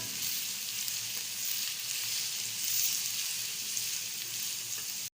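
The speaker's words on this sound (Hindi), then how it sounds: "प्याज में लाइट ब्राउन होने तक फ्राई करूंगी" Onions frying in a shallow layer of oil until light brown, a steady, dense sizzle that holds evenly throughout with no voices, then stops abruptly at the end.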